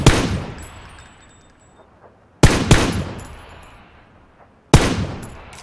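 Gunfire in the video game PUBG: three loud, sharp shots spaced about two seconds apart, each cracking hard and then fading in a long echoing tail, heard alone without talk.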